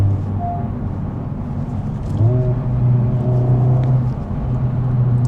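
Honda Civic Type R FL5 turbo hatchback under way, a steady engine drone that climbs in pitch midway with a rising turbo whine, faint crackles over continuous rumble.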